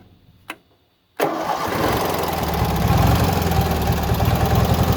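A Troy-Bilt lawn tractor with a 14 hp Briggs & Stratton twin engine cranks once briefly, then catches and settles into a loud, steady running rumble close by.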